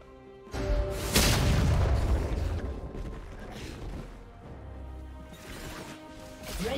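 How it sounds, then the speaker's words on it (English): Turret explosion in the League of Legends video game: a heavy booming crash bursts in near the start and rumbles on loudly for several seconds, then fades under lighter game effects with a final swell. "Red team's turret has been destroyed."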